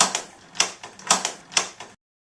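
A Dorma D860 deadbolt on a door being thrown back and forth, giving a series of about six crisp metallic clacks in an uneven rhythm, close and clear, then silence.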